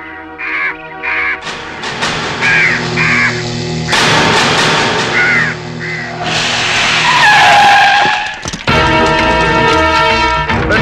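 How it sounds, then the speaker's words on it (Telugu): Crows caw in loud, harsh bursts mixed with other busy, dense sound, coming in clusters over several seconds with no speech. "ఈ ఏరియాలో ఒక్క కాకి కూడా ఉండాలని వీలేదు"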